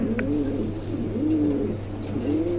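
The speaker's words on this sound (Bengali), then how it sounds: "খুবই চমৎকার এক জোড়া কবুতর আছে" A pair of Andalusian pigeons coo close by, giving three soft, rolling coos at a steady pace over a low constant hum.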